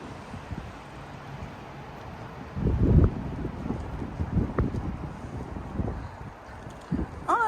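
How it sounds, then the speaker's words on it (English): Wind gusting outdoors in a garden, buffeting the microphone with low rumbling bursts that rise and fall unevenly throughout. "So, woo, windy."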